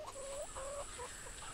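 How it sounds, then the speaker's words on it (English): A domestic hen gives a few quick, soft clucks in a short run, close by and fairly quiet, against a faint steady background hiss. "What sound does a hen make?"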